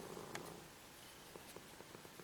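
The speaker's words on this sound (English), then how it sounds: "He's purring right now." A domestic cat purrs softly and steadily close by. The sound is faint and continuous, with a few light ticks and no talking.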